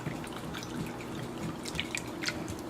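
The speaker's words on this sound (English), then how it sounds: "Just going to give it a light stir to incorporate everything into the bowl properly." A light stir of mango cotta mixture in a bowl produces soft, faint liquid swishes and a few small drip-like clinks that stay quiet throughout.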